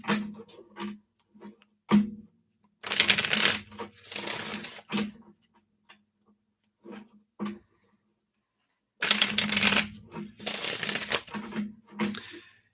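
Tarot cards shuffled and pulled during a live reading, with two long, dense bursts of riffling and several short snaps and taps of single cards being drawn and laid down, close and fairly loud with no talking.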